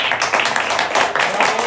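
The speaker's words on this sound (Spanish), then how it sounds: "Un aplauso." Guests at a 60th birthday party clap together, a close, lively burst of rapid hand clapping that continues steadily and fairly loudly throughout.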